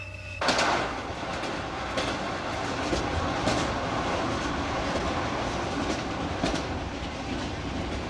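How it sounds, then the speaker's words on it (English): Train riding the rails on the long journey from La Paz in Bolivia, a steady loud rumble of wheels on track with a sharp onset and periodic clacks over joints, continuous and close, no voices. "From La Paz, it's a 13-hour train ride down to where Dan and Ann reckon our outlaws"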